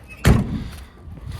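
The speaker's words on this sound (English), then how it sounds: "Doors open and close without rubbing things." A door on a 1966 Ford Mustang under restoration swings shut with one close, solid thunk, followed by a short faint rattle and quiet room noise.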